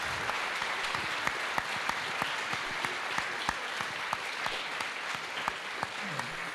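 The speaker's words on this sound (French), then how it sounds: "Applaudissons le..." A conference audience claps steadily at a moderate level, a continuous wash of applause with individual claps standing out here and there, and no speech over it.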